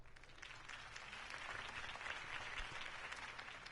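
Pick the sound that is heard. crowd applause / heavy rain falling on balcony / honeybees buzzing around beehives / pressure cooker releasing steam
crowd applause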